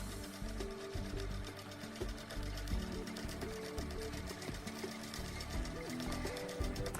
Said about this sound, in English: I finished basting the top of the quilt.